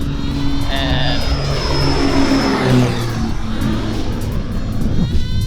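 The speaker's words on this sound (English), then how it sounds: "airplanes land over us all day, it's pretty sick." An airplane comes in low over a place near an airport to land, a loud engine roar with a falling pitch as it passes close overhead, with faint voices underneath.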